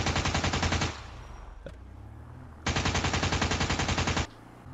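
A minivan-mounted turret machine gun fires in GTA 5, two long rapid-fire bursts, loud and close, separated by a short pause with a faint engine hum beneath.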